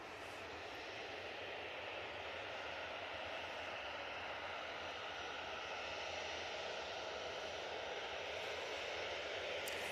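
A TUI Boeing 737-800 jet airliner landing at Manchester Airport gives a steady, faint broadband engine roar that holds evenly throughout, with no voices.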